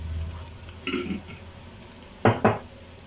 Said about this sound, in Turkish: Onları güzelce kavuracağız şöyle.